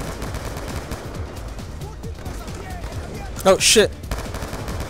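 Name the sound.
gunfire in Call of Duty Black Ops 2 video game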